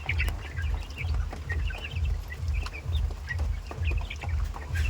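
Rhode Island chickens on a small farm cluck and chatter at feeding time, a busy overlapping flock close by with steady low rumbling noise underneath and no talk.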